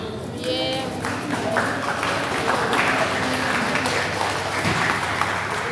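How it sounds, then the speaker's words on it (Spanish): Crowd applause fills the venue after the boxing bout's unanimous decision for the red corner, a steady, moderately loud roar of clapping under a continuous murmur of voices. "se produjo un buen aplauso"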